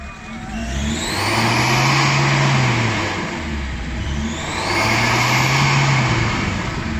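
A SsangYong car's engine revs twice in a row, each throttle blip swelling into a loud, close roar and then dropping back toward a steady idle, with no voices over it.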